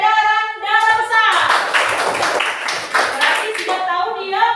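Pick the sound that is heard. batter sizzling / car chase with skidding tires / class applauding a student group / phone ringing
class applauding a student group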